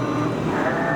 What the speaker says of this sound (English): He's running the Z-axis.